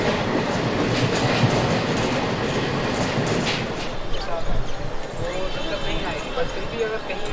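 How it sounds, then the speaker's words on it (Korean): Train rolling along rails on a 14-hour journey departing Varanasi, India, a steady continuous rumble with rhythmic clatter that eases in the second half, with talk over it. "인도 바라나시에서 출발해 14시간 동안 기차를 타고 달렸다."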